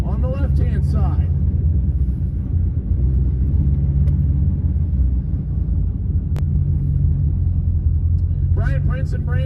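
A Dodge Durango makes a drag racing pass at a Ford Fest event, its loud engine rumble steady and close under an announcer's voice at the start and end.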